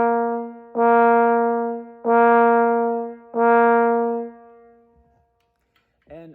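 Three accented trombone notes from an all-state concert band technical étude, each with a weighted attack and a tailed-off body, evenly spaced with short gaps between them and played alone, followed by a brief faint sound at the end.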